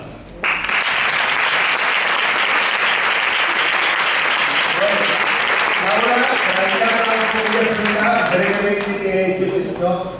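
Audience at a volunteering awards ceremony applauds a volunteer with sustained, loud clapping from start to end, and sung or melodic tones rise beneath the applause in the later seconds.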